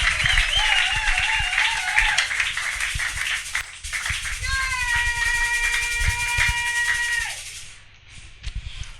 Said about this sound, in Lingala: nous allons l'accueillir avec des acclamations et des cris de joie